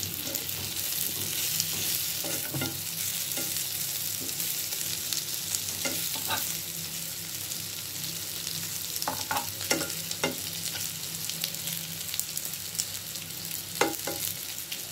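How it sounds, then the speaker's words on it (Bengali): Snakehead fish fries in a pan with a steady close sizzle, punctuated by irregular scraping and tapping as the pieces are turned and stirred. "আমি খুব সুন্দরভাবে ভেজে নিচ্ছি শোল মাছটা"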